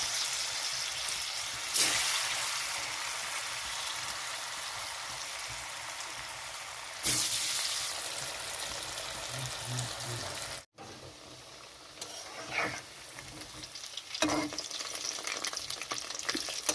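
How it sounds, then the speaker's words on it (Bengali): Banana flower cakes (mochar dhoka) sizzle in hot white oil in a kadai, a steady bubbling hiss that surges loudly as pieces drop in, with a few soft clinks and scrapes near the end. "তো ভাজার জন্য দিয়ে দিচ্ছি কড়াইতে।"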